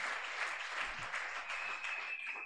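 A congregation applauding during a Sunday church service, a steady wash of many hands clapping, with no clear speech over it.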